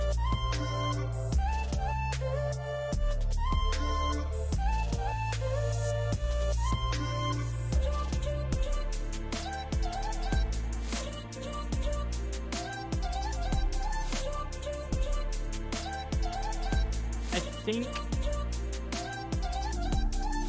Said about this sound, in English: This is like my background EDM